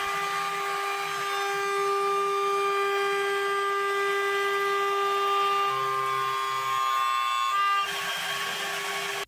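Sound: CNC mill chamfering a 4140 steel octagonal wrench

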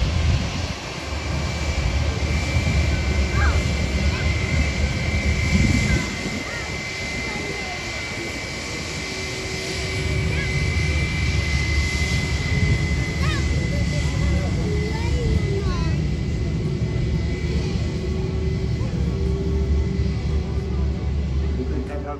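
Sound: TUI Boeing 737-800 taxiing towards runway

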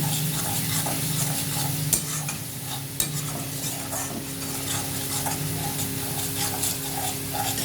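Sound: chicken masala with turmeric, cumin, Kashmiri chili being sautéed

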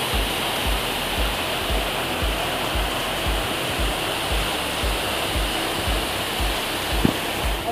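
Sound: waterfall flowing

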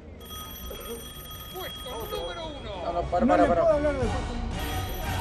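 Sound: telephone ringing

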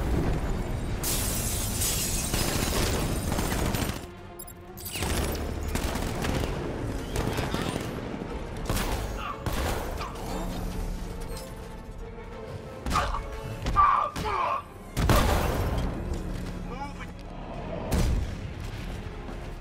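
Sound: gunfire in video game Batman: Arkham Knight

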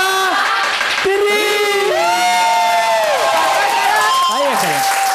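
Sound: studio audience applauding

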